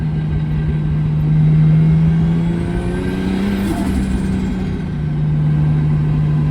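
A 2JZ-engined Nissan S13 on a dyno during a third-gear pull gives a loud, sustained engine roar with a steady drone and slight pitch shifts midway, heard alone without talk.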